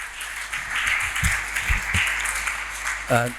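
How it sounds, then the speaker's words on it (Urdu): Applause from a conference audience, moderately loud and spread out, with scattered sharper claps breaking through and a voice briefly speaking near the end. "آپ کی بھرپور تالیوں میں سر ہے."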